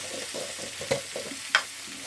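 Spices sautéed with turmeric and salt in a pan, a soft continuous sizzle and stirring, with two sharper scrapes or clinks standing out against it.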